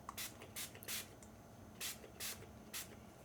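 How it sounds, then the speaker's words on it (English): Six short, quiet bursts of spray from a pump bottle misting a paint palette, spaced unevenly, over a faint steady background hiss. "just spraying my palette a little bit more."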